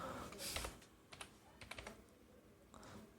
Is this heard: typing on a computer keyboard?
yes